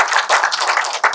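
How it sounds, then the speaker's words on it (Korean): Audience applause at a lecture-style talk event, a brief burst of many hands clapping at close range, dense and even, lasting about a second. "박수 한번 부탁드립니다."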